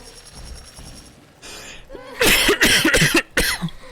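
Someone coughs several times in quick succession, harsh and close, after a brief rustle, while playing BioShock 2; the bursts come in a choppy, uneven fit.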